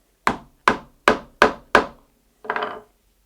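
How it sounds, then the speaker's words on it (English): A hammer strikes a metal punch through thick leather for a handmade guitar strap: five sharp, evenly spaced knocks, close and clear, followed by a softer scraping rub, with no talking. "and then just hit it with a hammer"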